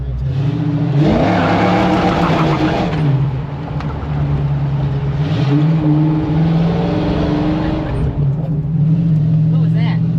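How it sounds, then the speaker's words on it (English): A car with both drive wheels spinning suffers wheel hop under hard acceleration. The engine roars loud and close and rises and falls in pitch over a shuddering rumble, with voices inside the cabin. "we got some wheel hop we're gonna have to take care of now that both wheels are spinning"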